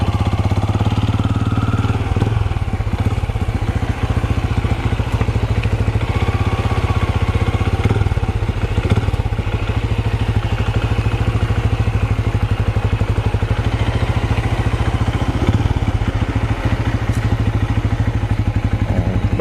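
A motorcycle rides slow manoeuvres to warm its tires during cone-weaving practice for a riding licence test, its engine droning steadily and close with slight throttle changes and occasional clunks throughout, no voices.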